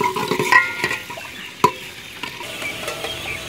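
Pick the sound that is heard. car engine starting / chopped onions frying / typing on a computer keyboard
chopped onions frying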